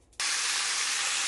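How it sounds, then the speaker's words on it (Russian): Chicken pieces hit a preheated frying pan, and a sudden loud sizzling hiss bursts up and holds steady at close range. "Добавляем курицу и жарим курицу."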